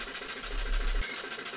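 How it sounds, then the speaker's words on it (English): Homemade steam engine driving a windmill-type generator runs with a close, steady mechanical chuffing and hum, a low throb that swells and then drops away partway through. "The engine in this video is running a windmill-type generator."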